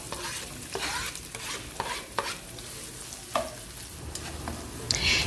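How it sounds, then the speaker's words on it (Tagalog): Onions sautéing in a pan for sambosa filling, a steady close sizzle punctuated by regular scraping strokes of a spatula stirring, loud and without talk. "maggigisa na tayo ng sibuyas"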